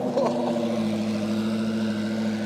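A Koenigsegg CC hypercar engine fires up and settles into a loud, steady, deep rumble heard close by, with a brief rise at the start of the catch.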